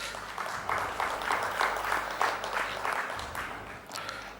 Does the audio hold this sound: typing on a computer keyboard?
no